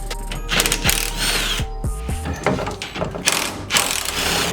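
Wrench loosening the steering shaft bolts on a BMW E30 during a Z3 rack swap, with loud, close ratcheting clicks and metallic clanks in quick irregular bursts and no speech.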